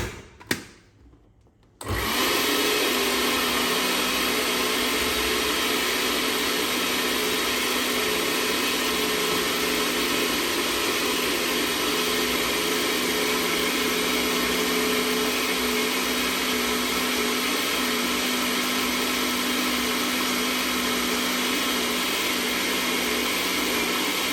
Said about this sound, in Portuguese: E agora a gente vai bater novamente.